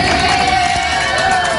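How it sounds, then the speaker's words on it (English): A large crowd of dozens of strangers at Baltimore International Airport greets arriving military veterans, a steady roar of cheering and clapping with some whoops, continuous and dense throughout. "Just listen to that applause."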